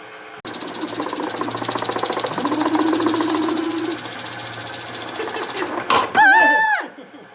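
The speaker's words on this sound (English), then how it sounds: "cylindrical sander attached, which apparently is going to solve all the issues" A cylindrical sander attachment works on a plant stand with a loud, close, continuous whirring grind for several seconds, then cuts off and a short rising-and-falling whine follows.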